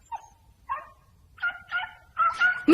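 A dog yelps and whimpers in a series of about six sharp cries that grow louder and more frantic, heard alone with no talk, in a tense scene of a horror film.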